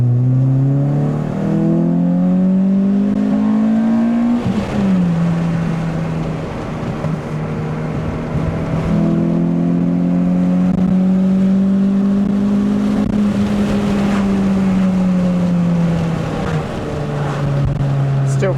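Toyota Corolla T Sport engine droning loud from inside the cabin, rising in pitch through repeated accelerations and gear changes, with road rumble and a voice talking over it.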